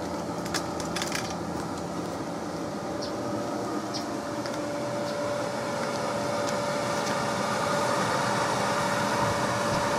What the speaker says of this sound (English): So you can hear the fan on right now.